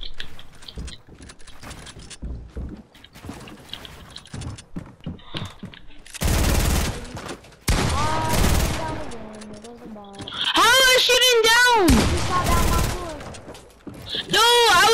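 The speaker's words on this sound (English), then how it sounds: "I'm shooting your freaking roof to get in!" Automatic gunfire from a video game firefight as a player shoots through a building's roof, with loud sustained bursts and mechanical clatter between bursts, while a voice talks over the action.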